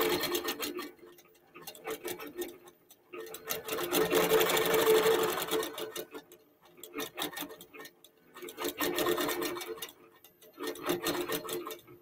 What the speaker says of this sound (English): here we're at the outer boundary, so it's going to stitch along the boundary.